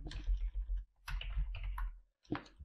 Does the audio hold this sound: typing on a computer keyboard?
yes